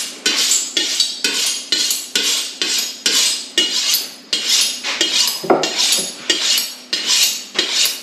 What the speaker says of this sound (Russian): Теперь нарезаем лучок.